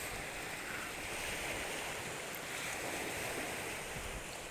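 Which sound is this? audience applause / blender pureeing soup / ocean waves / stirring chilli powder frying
ocean waves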